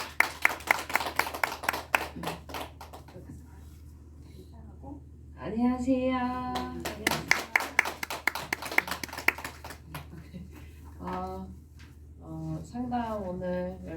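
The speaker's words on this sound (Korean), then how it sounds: "우리 박수." A few sharp, separate claps from a small group at a Korean counselling and prayer gathering. They ring out near and distinct at the start and again later, between stretches of close speech.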